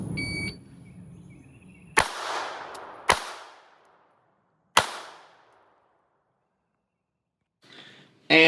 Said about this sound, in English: support hand only, fire 3 rounds.